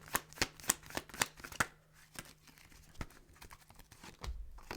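Tarot cards riffle and slap in a quick run of crisp shuffling bursts, close by, easing into a few scattered clicks and a soft thump near the end.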